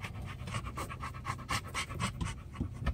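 Dogs pant rapidly and rhythmically close by, with quick breathy bursts following one another without pause and no talking.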